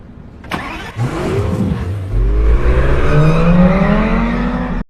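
A black Lamborghini in a film scene starts up and revs hard, the engine note climbing and holding loud and close for several seconds before cutting off abruptly.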